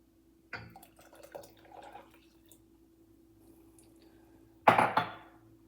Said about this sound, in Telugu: మనము ముందుగా తీసి పెట్టుకున్న చింతపండు పులుసు ఇది యాడ్ చేసేస్తాను